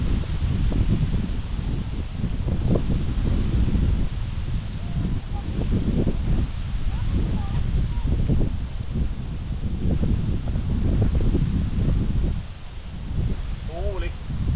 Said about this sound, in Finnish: Tuuli.